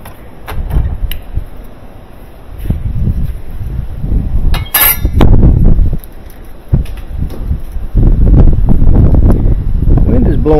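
Wind buffeting a microphone outdoors on a cool late-September day beside a Maytag or Whirlpool washer being repaired, coming in loud, rumbling gusts with a few light clinks and knocks between them.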